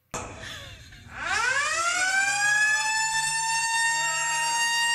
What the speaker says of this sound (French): une Lunk Alarm, qui est une alarme qui se déclenche lorsque quelqu'un repose ses poids un peu trop fort ou bien gémit pendant l'effort